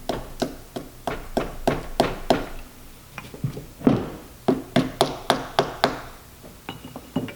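A small homemade wooden mallet taps material into a pumpkin, giving a steady run of crisp, close knocks with a brief pause and a thud midway before the quick taps start again.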